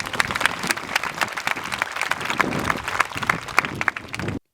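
Audience clapping at a live Christian sermon, a sustained dense wash of many hands applauding throughout, fairly loud and steady, with no talk over it.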